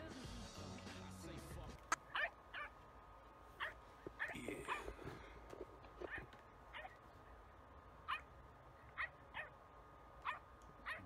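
Dog barking played back from a funny video, with repeated short sharp barks and yips spaced through the clip over a noisy background, moderately loud, with some faint voice near the start.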